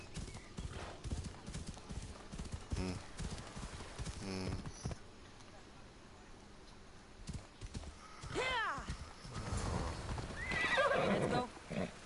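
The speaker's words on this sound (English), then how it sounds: "That actually a horse I got from Hades." Hooves clip-clop steadily, then a horse neighs twice in quick rising whinnies, with game sounds and speech in the background.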